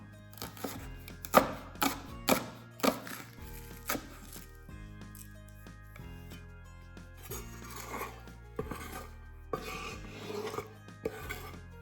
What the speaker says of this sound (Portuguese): A cebolinha nós cortamos também já bem pequenininha também.